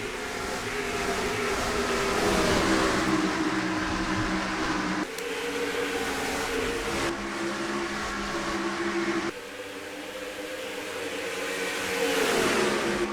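Race cars accelerating at Watkins Glen in a racing video game: a continuous, loud engine drone with layered revving tones rises and shifts, with a couple of abrupt cuts in the sound.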